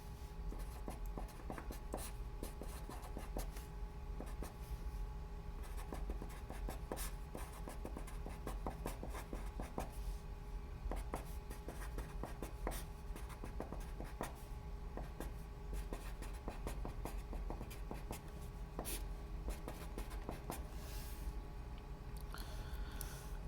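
Steady pen or marker writing out math equations for a trig identity, a continuous scratchy stroking that runs without pause at close range with no speech.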